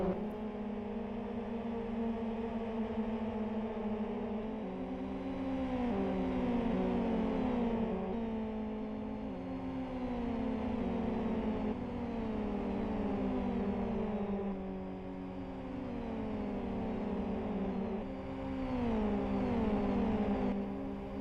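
Racing car engines in the Live for Speed sim during an endurance race, several engines whining and shifting through rising revs in repeated sweeps, moderately loud and continuous with no talk.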